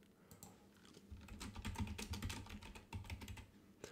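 Typing on a computer keyboard, a close, quick run of light key clicks in uneven bursts over about four seconds, with no talking.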